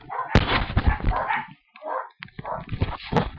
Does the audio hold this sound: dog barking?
yes